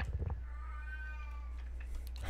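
Pet cat Pearl lets out a single drawn-out meow, clear and close, over a constant low hum from a gaming setup.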